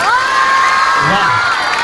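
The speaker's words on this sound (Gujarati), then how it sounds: "તો તાળીઓના નાદ સાથે આપણે નિઝામ સાહેબનું સ્વાગત કરીએ" An audience at a 15 August school program cheers and shouts, with children's voices rising in whoops to welcome a guest, a loud, sustained crowd roar that stays steady for the full stretch.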